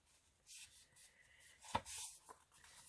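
Paper is torn along a tear ruler while making a mini junk journal, a few short scraping rips with one sharp crisp tear, close and quiet.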